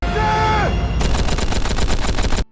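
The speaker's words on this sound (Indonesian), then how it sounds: "Senapan mesin pun disiapkan." A sustained tone fades out, then a rapid burst of machine gun fire in a samurai war film rattles off in quick, even shots for about a second and a half.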